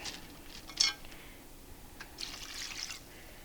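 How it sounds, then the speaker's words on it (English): Water is poured into a second pot of blueberries for jelly, a few short, quiet splashes and trickles, with one louder spatter early and a softer pour toward the end. "we're going to add some water to the second pot"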